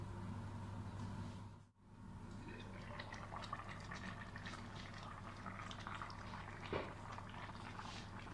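Fish cassoulet simmering gently in a covered pot, a steady low bubbling with soft drips, continuous and close, with one brief dropout near the start.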